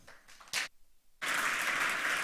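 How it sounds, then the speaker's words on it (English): A conference audience breaks into loud, dense applause after a speaker is introduced, following a few scattered claps and a brief lull, then holding steady to the end. "Give a warm applause to Tim."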